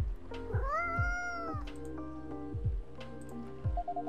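A cat meows in the Coffee Talk cafe, one drawn-out clear meow near the start followed by soft taps and a faint second call, set against quiet background music.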